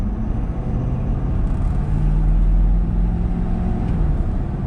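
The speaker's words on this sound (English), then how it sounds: "in a truck this big, let me just floor it" Roush Ford F-350 Super Duty pickup truck accelerating hard from about 30 mph, a steady loud engine rumble with a low drone that builds slightly midway, heard from inside the cab.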